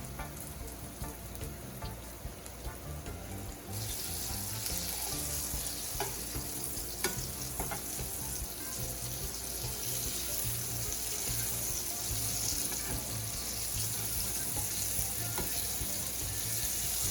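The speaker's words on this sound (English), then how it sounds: "going to begin placing my cassava puffs into my hot oil" Cassava puffs, flour-coated balls of yuca dough, fry in a pot of hot oil, giving a steady, dense sizzle that swells sharply louder a few seconds in as more pieces go in, then holds a bright, crackling hiss throughout with no talking.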